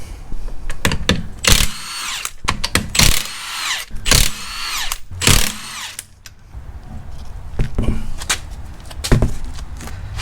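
Power tool buzzing in repeated short bursts while spark plugs come out of a 2005 Porsche Boxster S 987 engine being rebuilt, close and loud, with quieter clicks and handling noises between the bursts.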